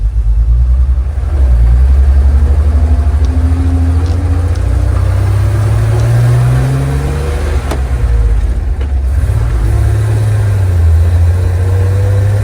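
A 1969 Chevy C30 pickup truck engine idles while warming up with a steady low rumble, its pitch rising and falling slightly as it runs continuously up close.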